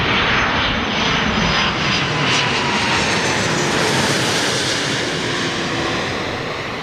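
A pure freighter jet on Heathrow runway 27L, a loud, dense engine roar that stays strong and then eases slightly toward the end, with airy rushing hiss on top.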